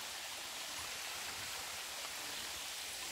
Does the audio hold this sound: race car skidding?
no